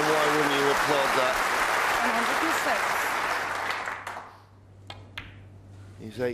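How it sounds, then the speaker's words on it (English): A snooker crowd at the 2008 World Championship semi-final applauds a century break, loud sustained clapping that fades out while a commentator talks over it. "And why wouldn't you applaud that?"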